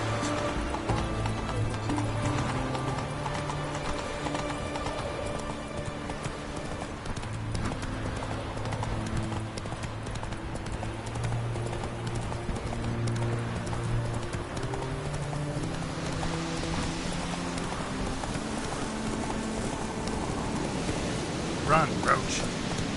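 Roach, a horse in the video game The Witcher 3, gallops with steady rhythmic hoof clip-clops under a sustained musical score, with a short snort near the end.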